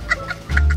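Chicken clucking in the video game GTA 5, a few short close clucks in quick succession over a low background rumble.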